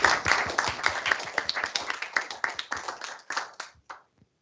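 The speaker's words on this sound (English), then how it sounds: "thanks also for the applause for InnoWaste, which I think is highly deserved" An audience applauds after a startup pitch presentation at a demo session, a dense round of clapping that stays steady and then thins out to a few last claps before stopping.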